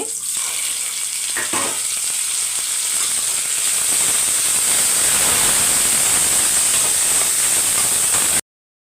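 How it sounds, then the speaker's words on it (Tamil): Two tomatoes drop into a hot frying pan with oil and spices and sizzle, a steady loud frying hiss that keeps going with no voice over it. "கொஞ்சம் கண்ணாடி பதத்தில் வந்தவொன்னே தக்காளி சேர்த்துக்கலாம் ரெண்டு தக்காளி"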